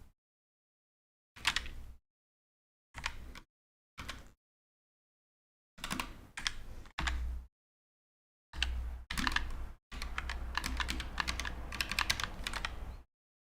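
Someone types on a Glove 80 split ergonomic keyboard in short bursts of rapid clacking separated by silent pauses, ending in a longer continuous run of keystrokes, close and clear with no voices.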